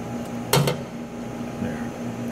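The lid of a CEEBrewer 200CB spin coater shuts with a single sharp nearby clack followed by a brief rattle, over a steady machine hum.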